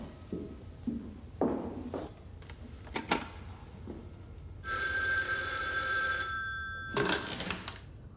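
A telephone at home gives one bright, sustained ring lasting about a second and a half, preceded by scattered footsteps and small knocks in a quiet room, with a short clatter after the ring stops.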